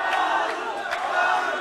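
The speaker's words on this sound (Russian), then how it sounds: "Слышим поддержку болельщиков." Fans at an FFC mixed martial arts fight between Magomed Gadzhiev and Alisher Pukhakov shout and cheer as a continuous, energetic crowd roar with loud individual yells.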